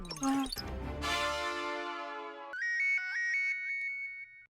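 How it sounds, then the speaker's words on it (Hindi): A melodic electronic phone ringtone plays in a repeating, chiming pattern, clear and close, following a brief burst of music and voice. "अरे जेठालाल का फोन।"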